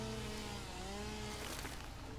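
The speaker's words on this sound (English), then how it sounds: "if you harvest these with your chainsaw" A chainsaw in the video game Satisfactory harvesting coral-like mycelia plants, a loud continuous buzzing whine with shifting pitch that stays steady and close from start to finish.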